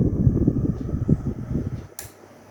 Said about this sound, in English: And you can see the blower is working fine.